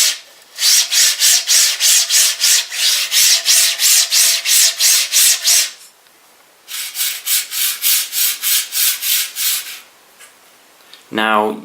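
RobotDigg linear rail guides sliding: repeated gritty strokes in a steady back-and-forth rhythm, a long run, a brief pause, then another run, ending with a short rattle.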